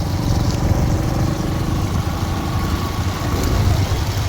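A Pulsar motorcycle engine runs steadily close by on the road, a continuous low rumbling drone with slight fluctuations and no talking.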